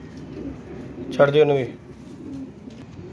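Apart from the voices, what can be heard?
pigeons cooing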